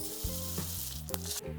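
Arborio rice sizzling in a pressure cooker as it is stirred, a dense close hiss with a faint mechanical hum underneath, brief and without speech.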